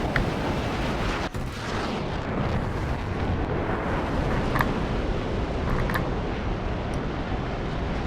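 Dense, rumbling burst of cannon fire from a J-7E jet in War Thunder, loud and continuous with a sharp crack early on, heard alone without any talk.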